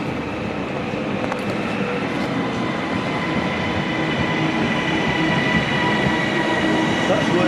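Steady, enveloping rumble of a passenger train running between stations near Manchester, heard from inside with faint wheel clatter and no clear speech.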